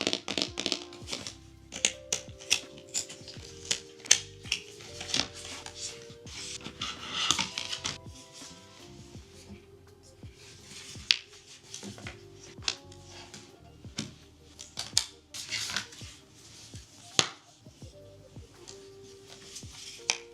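A Kobo Libra Color e-reader being snapped into its notebook sleep cover, with scattered soft plastic clicks, taps and rubbing at close range, irregular and quiet, over faint background music.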